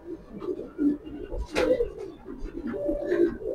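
A male red checker pigeon of tamra colour gives low, soft coos close by, with murmured voices and faint background noise around it.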